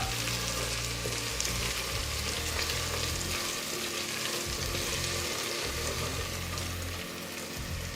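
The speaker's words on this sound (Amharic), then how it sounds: "ከዛም ነጭ ሽንኩርታችንና ዝንጅብል ከጨመርን በኋላ እንደዚህ ደግሞ አብረን ጥብስ እናደርገዋለን" Garlic and ginger fry in a pan with a loud, dense, unbroken sizzle that holds steady from start to finish and eases only slightly near the end.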